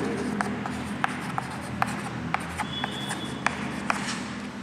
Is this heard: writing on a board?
yes